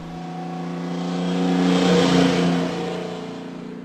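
An engine running steadily, its hum swelling louder toward the middle as if drawing nearer, then easing off again.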